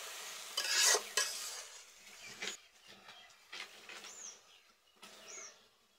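Chili powder, turmeric, cumin and coriander being sautéed in a pan, with a few sharp scraping stir strokes over a faint background sizzle, quiet and intermittent.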